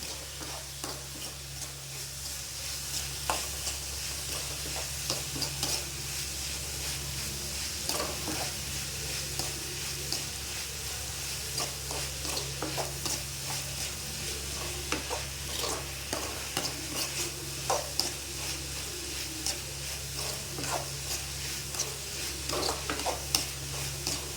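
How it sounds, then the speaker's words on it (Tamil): Onions sautéing in a frying pan, a steady close sizzle with a spatula stirring and scraping in irregular taps and scrapes throughout, constant low hum underneath and no voices. "கருக விட்டுறக்கூடாது, நல்லா வதங்கணும்."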